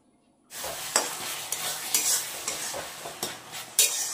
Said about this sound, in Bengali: চাটনিটা প্রায় হতেই চললো, একটু পরেই নামিয়ে দিব, একটু নাড়াচাড়া করেই নামিয়ে দিব